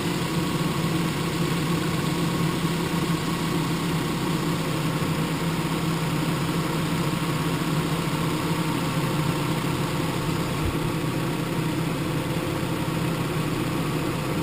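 A 2007 Kia Optima 2.4L four-cylinder engine idles steadily throughout while warming up after a coolant refill, a continuous low rumble with a faint hum and no voices.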